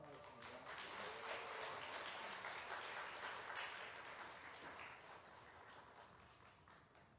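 Church congregation applauding as a soon-to-be-married couple is called up, steady dense clapping filling the room and slowly tapering off.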